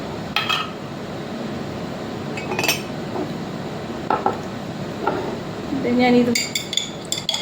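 Rice water is poured and a spoon clinks against a small dish while a sheet mask is prepared at home, with scattered metallic taps and light stirring close by and a brief spoken word.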